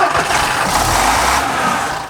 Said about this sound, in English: The old B59 is propelled by a horizontal 10-litre 6-cylinder turbo diesel